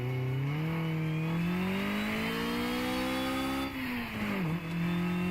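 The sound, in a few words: car engine revving on a dyno in video game Redline Reverie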